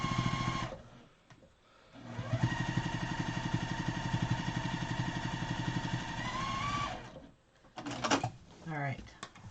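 A sewing machine stitches lace down onto a quilt, its needle running in a steady rapid hum for several seconds, then stopping, followed by short bursts of clicks and handling.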